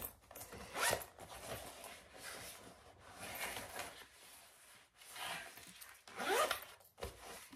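A zipper on a handmade fabric clutch pocket is pulled open and shut several times, giving quiet, close, scratchy zips separated by short pauses and soft handling rustles.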